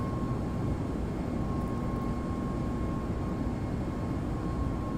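Steady, loud jet engine roar from a ToLiss A321XLR in a flight simulator, a dense broadband rumble with a faint constant tone, continuous and unchanging with no talk.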